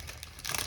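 A bag of leftover stickers crinkles while being handled during a teacher planner clean-out, a brief soft rustle that grows louder and crunchier in its second half, with no talking.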